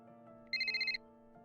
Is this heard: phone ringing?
yes